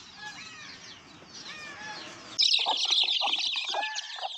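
Free-range village chickens on a rainy farm cluck and call repeatedly. A softer, distant stretch turns abruptly into loud, close, busy clucking with overlapping bird sounds and no talking.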